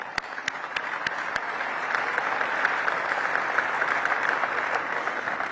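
An audience breaks into applause, dense clapping that swells a little and holds steady, loud and close.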